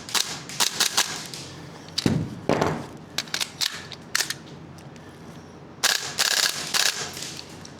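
A Gunsmodify SCAR MWS gas airsoft rifle fires .4 gram BBs in sharp clustered bursts on full auto, snappy cracks with metallic recoil clatter separated by short quiet pauses.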